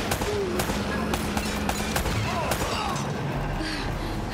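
Gunfire in Uncharted: Drake's Fortune: a steady run of sharp shots and cracks spread across several seconds over dense, noisy battle ambience, with no talking.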